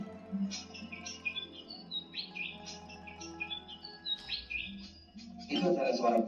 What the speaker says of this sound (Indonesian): yaitu suara burung kipasan